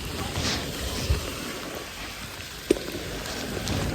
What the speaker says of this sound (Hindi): ओह शिट देखो गाइस कितनी तेज बारिश हो गई है।